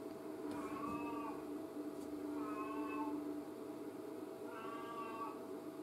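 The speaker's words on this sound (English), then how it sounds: "And you guys can hear my cat." A pet cat meows three times at spaced intervals, moderately close, over a steady hum of background noise during an indoor painting session.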